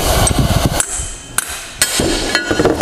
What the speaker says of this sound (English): So you don't want to use a steel hammer to hit directly on the slide rod.